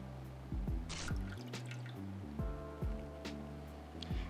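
Liquid drips and splashes into a pot in a few small irregular bursts, fairly close and quiet.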